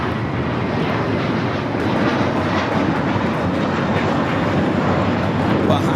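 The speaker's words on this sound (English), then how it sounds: "We have a JetBlue A321 taxiing in front of us." A JetBlue Airbus A321 taxiing at LAX gives off a loud, steady engine roar and broad whoosh that holds without a break throughout, close and continuous.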